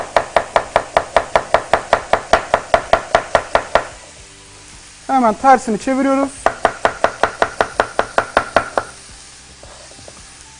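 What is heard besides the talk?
knife chopping onion julienne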